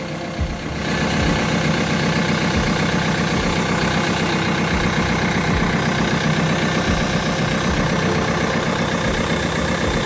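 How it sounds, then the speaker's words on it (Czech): Fuel feed pump running on a Ford Mondeo MK III after replacement, a steady mechanical hum and whir heard close up alongside the idling engine, continuous and even throughout with no talk. "Takže čerpadlo je na místě, pěkně vrčí si"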